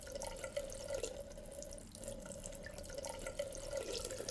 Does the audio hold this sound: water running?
yes